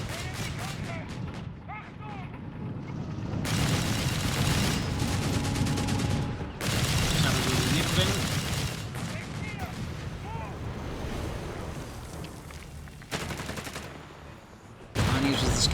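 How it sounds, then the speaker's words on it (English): Machine guns rattle in a Company of Heroes 3 battle: long sustained bursts of dense rapid fire with heavy booming impacts, loud and continuous across most of the stretch, broken by short lulls, while a commentator talks over the action. "Machine guns here about to do the Sappers hardcore as well."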